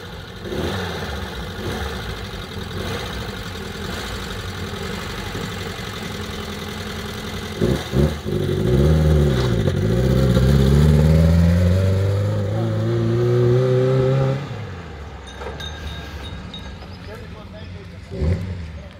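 A smoky, faulty Wartburg car engine idles roughly, then revs up and holds a rising, wavering drone before dropping back, close by, with people talking over it throughout.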